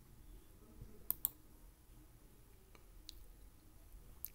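A computer mouse gives a few faint, sharp clicks, two close together early and a couple more spaced out later, against quiet room noise with no talking.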